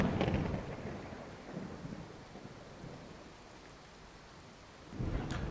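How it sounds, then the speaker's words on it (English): Rain hisses steadily in the Skyrim video game, with rumbling thunder near the start and another rolling boom at the end; no voices. "Oh, good. It's raining now."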